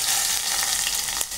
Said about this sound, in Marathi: आता हे मी वरण सगळं फोडणी टाकून घेणार आहे